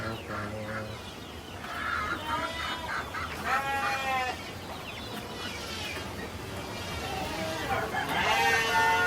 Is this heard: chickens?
yes